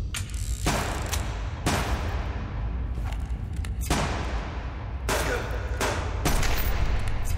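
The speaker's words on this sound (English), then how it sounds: "He was shooting a magnum too" Magnum gunshots ring out in the survival game Subsistence: about seven sharp, loud cracks come at irregular intervals over a steady ambient hum.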